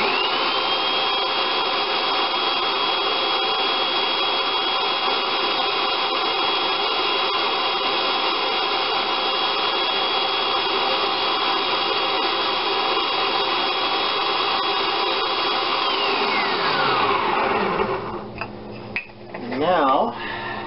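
A blender motor runs at high speed, pureeing homemade mayonnaise with a loud steady whine, then winds down to a stop near the end and leaves some clattering and handling noises.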